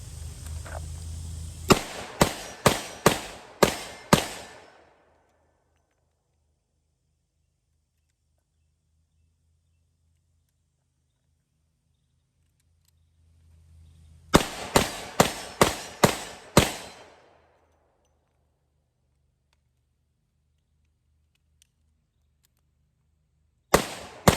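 Revolver fired in two quick strings of about six loud sharp shots each, separated by a long quiet pause, with another shot beginning at the very end.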